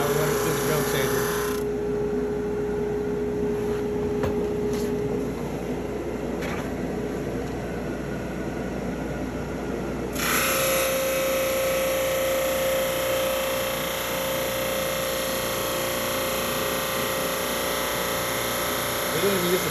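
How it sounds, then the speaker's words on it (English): Drum sander running steadily while sanding a wooden Green Bay sign, a loud continuous mechanical whir and hiss with a shift in tone partway as the board feeds through, with a person talking over it. "Now we're running through the drum sander."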